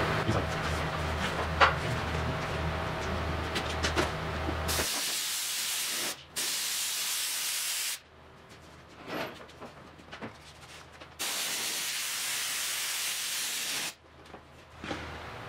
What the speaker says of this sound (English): we need to spray glue here.